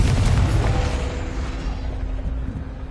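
Confringo blasting spell detonating in Hogwarts Legacy, a loud close boom with a deep rumbling body that fades over a few seconds, no talk.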